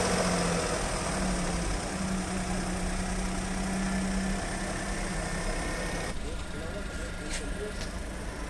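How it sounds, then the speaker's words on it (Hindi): A Maruti Suzuki Alto K10 engine idles just after a major service, a steady close mechanical hum and rumble that holds even throughout without revving, with no speech over it. "अब मैं साउंड सुनाता हूँ, गाड़ी का साउंड किस तरीके से है"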